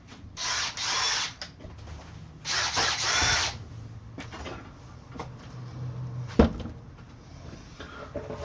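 A power drill spins up in two loud, whining bursts against an RCA Victor 9EY3 radio in a basement, followed by quieter clicks, handling clatter and a sharp knock.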